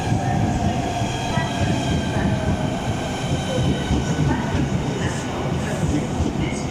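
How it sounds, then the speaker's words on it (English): High-speed train 395002 arrives at Stratford International station on HS1, giving a loud, steady rumble of wheels and motors that runs throughout, with faint squeals and clicks. "Quickly arriving in is 395002 towards St Pancras International."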